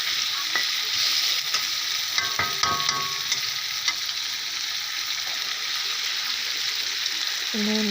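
Onions frying in a pan for a pabda fish dish: a continuous loud sizzle with stirring scrapes and a few light utensil knocks, ending in a short metallic clink, with no talking.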